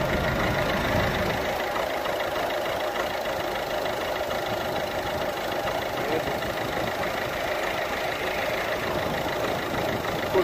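A car engine idles on a cold start with a steady, rough rattling knock, continuous and fairly close, with no voices over it.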